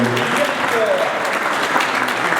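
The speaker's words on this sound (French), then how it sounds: "je demande l'applaudissement pour monsieur Frédéric Bois." Applause from an audience at a presentation on a Mitsubishi CO2 heat pump: dense, steady clapping that fills the whole short stretch at even loudness.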